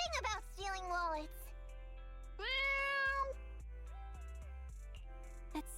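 A game cat, Nekomata from Zenless Zone Zero, gives a couple of drawn-out, rising and falling meows over a steady low musical backing, with short bright chirps in between.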